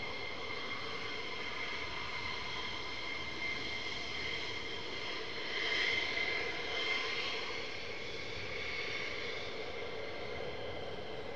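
An F-15 fighter jet at RAF Lakenheath gives off a steady, fairly faint whining engine drone with a distant broad rumble beneath, swelling slightly midway and otherwise holding even.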